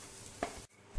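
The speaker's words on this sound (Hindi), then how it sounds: "तो चलिए हम अच्छे से मिक्स कर लेते हैं।" A spoon stirs a spice mixture with potato in a hot pan, a brief soft scrape and sizzle with a louder stroke midway, close and quiet.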